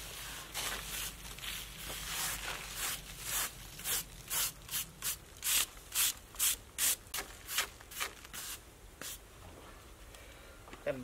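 Hand sanding of a concrete house foundation gives a series of about a dozen rhythmic rasping strokes, close and moderately loud, that slow and thin out toward the end.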